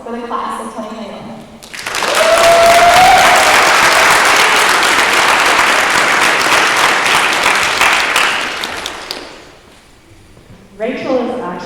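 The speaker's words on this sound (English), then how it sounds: "Please join me in a virtual round of applause for the class of 2021." Applause for a graduating high school class at a virtual ceremony: a loud, sustained wave of clapping that holds steady for several seconds, then fades out, with a voice starting to speak near the end.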